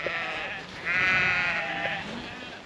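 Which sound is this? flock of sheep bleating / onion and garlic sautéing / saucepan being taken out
flock of sheep bleating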